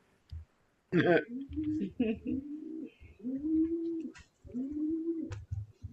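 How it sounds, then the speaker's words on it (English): Doves coo in a repeated, fairly close series of soft low calls, with a brief louder rustle near the start and a voice talking in the background. "Listen to those doves laughing at us."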